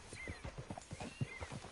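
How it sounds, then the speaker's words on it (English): Horse hooves clip-clop in the Red Dead Redemption 2 video game, a quick, even run of hoofbeats, soft but distinct and uninterrupted by talk. "Get on the horse when you're ready."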